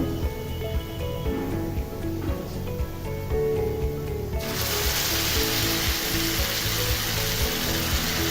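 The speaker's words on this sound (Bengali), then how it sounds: "তো এখন আমি মাংসগুলো এখানে ঢেলে দিচ্ছি" Beef hitting a pan of fried onions (beresta) for Bangladeshi kala bhuna: a steady sizzle that suddenly swells louder and brighter midway and then holds a dense, continuous frying hiss.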